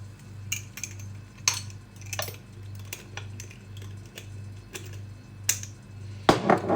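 A spoon stirring a mix with coconut sugar in a salad bowl, irregular clinks and scrapes tapping against the bowl at close range over a low steady hum.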